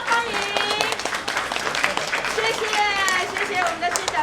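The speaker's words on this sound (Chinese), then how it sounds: "掌声欢迎！" Audience applause fills the opening ceremony of the Gongga Temple exoteric-esoteric Buddhist culture hall in Anping, with the mayor among the guests. The clapping is steady and dense throughout, with voices and tonal sound over it.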